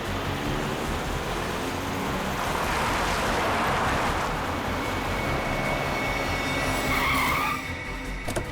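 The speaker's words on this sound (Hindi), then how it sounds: "गाड़ी बहुत तेज चला रही है।" A car races at high speed, with a continuous loud roar of engine and rushing road noise and a rising squeal of tires near the end, and no one talking.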